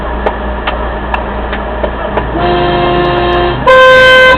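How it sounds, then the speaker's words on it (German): Car horn blaring in Albanian traffic in 2018, a steady loud sustained honk near the end after a stretch of busy street noise with fainter horn tones and clicks. "Was ist das für eine Hupe?"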